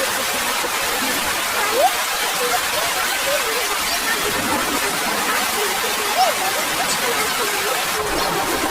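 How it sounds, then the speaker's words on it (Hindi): Steady, even hiss of rain falling, continuous and unbroken throughout, with no distinct drops standing out. "लेकिन बारिश तो रुकती नहीं"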